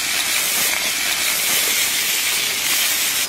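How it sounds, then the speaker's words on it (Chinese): Duck pieces dropped into hot oil with fried ginger in a wok, a loud, even, hissing sizzle that holds steady throughout. "放入鸭子"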